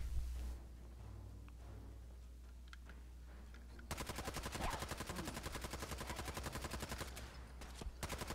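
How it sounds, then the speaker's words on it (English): Rapid machine gun fire in Fallout 4 opens after a quiet stretch of faint background ambience, a long sustained burst of evenly spaced loud shots that continues to the end. "No, there's machine guns down there, girl."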